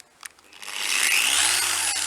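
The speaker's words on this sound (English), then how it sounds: "Instead of a drill, you could use an orbital polisher like this one," An orbital polisher spins up on glass after a couple of light taps, its whirring rising quickly into a steady, close, high-pitched hiss and grind that holds evenly without talk.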